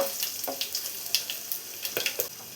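Dried red chillies and mustard seeds crackle in hot coconut oil, a steady faint sizzle broken by sharp irregular pops and spits, close and without talk.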